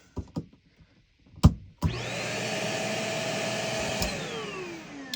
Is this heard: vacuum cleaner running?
yes